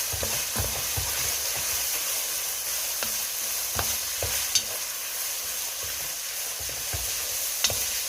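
Kai Si Ming sizzles and fries steadily in a pan, with a constant crackling hiss broken by scattered stirring clicks and scrapes.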